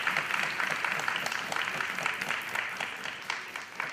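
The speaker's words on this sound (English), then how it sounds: "May I invite you to give a round of applause to both teams." An audience at a public sector debate competition gives a round of applause for both teams, steady, moderately distant clapping that continues without a break.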